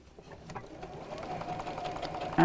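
A domestic sewing machine runs a steady, quiet whirring stitch while the edges of a fabric gift bag are sewn together, the motor's hum rising slightly toward the end, close and without speech.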